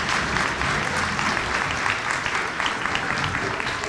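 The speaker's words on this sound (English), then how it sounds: "how about a big round of applause for our band so far?" Parents at a grade-school winter instrumental concert give the band a big round of applause, thick, even clapping from a full room, loud and unbroken throughout.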